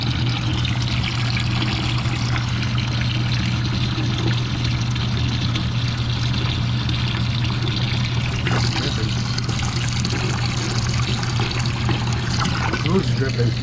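Water trickles and drips steadily into a nearly full container during a rust-removal job, a constant close liquid sound with a low hum underneath.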